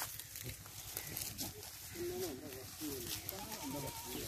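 Goats bleat in a livestock setting among farm animals, several wavering calls in the middle and end of the stretch over steady background noise and voices.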